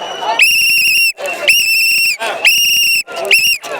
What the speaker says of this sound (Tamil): என்றைக்குமே இந்த விசில் சத்தம்